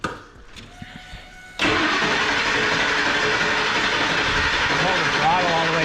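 A 1,000-horsepower sleeper Ford F-150 engine cranks briefly, then fires and catches for the first time, settling into a loud, steady, rumbling idle close by after a quieter stretch of clicks and hum.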